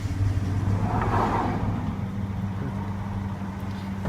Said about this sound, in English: We're going to give her a crank, and then make sure she's not squealing.